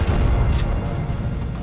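A deep, rumbling boom of a C4 explosion in the video game The Matrix: Path of Neo that lingers as a low roar for over a second, with crackling debris sounds.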